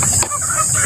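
Native chicken hens clucking close by, a short burst of soft clucks over a steady hiss.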